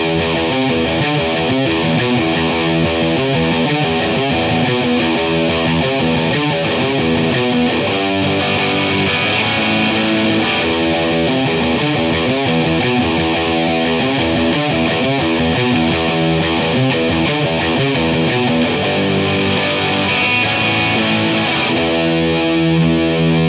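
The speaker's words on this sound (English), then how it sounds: "That's the distortion that I like to use, like especially at the live shows." An electric guitar plays a riff from a song through an amp with heavy distortion, a dense, sustained, saturated tone that stays loud and continuous for the whole passage, with no talking.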